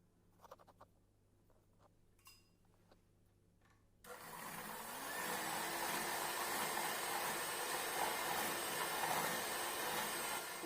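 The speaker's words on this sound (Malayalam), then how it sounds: "ഇത് നന്നായി പതപ്പിച്ചെടുക്കാം" Egg yolks beaten with salt until frothy, a quiet start of faint clicks and taps, then a steady loud whirring drone of an electric beater that runs continuously to the end.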